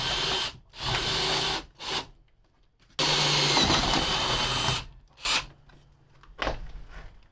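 A power drill bores out an existing hole for a roof screw during new roof framing, running in three bursts: two short runs, then a longer sustained whine, with a brief final spin.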